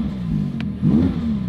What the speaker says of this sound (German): wir haben hier einmal Auspuff